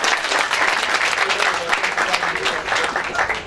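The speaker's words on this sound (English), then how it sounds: "will you please give her a round of applause" A steady round of audience applause after a presentation, many hands clapping at an even level throughout with no speech over it.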